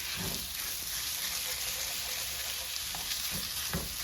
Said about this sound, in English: there should be plenty of fat in this pork sausage that should render in the skillet.